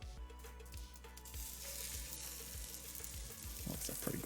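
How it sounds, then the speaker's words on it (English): A burger patty made from a ground-up KFC box sizzles and fries steadily in a pan, a constant close crackle with faint stirring or scraping bumps and no talk. "That's a pretty good sizzle."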